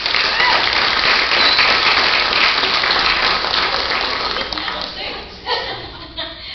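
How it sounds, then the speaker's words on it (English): Applause at a school board meeting in honour of a staff member, a thick, fairly loud spread of clapping that thins out near the end as voices start to come through. "Let's give her a big round of applause"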